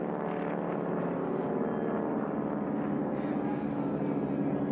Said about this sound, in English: Behind him in race 50, the white and yellow airplane, Vitaly Pechersky out of Van Nuys, California.